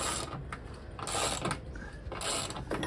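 Ratchet mechanism clicking as bolts are tightened on a drawbridge under construction in the Philippines, heard as a dense run of mechanical clatter and grinding at close range with no speech.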